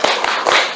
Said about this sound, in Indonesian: Kita beri tepuk semangat untuk diri sendiri ya.